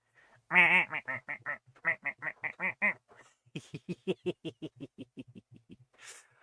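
In a retro text-adventure video game, a run of rapid, nasal duck quacks in two bursts, clear and close, with a short pause between them.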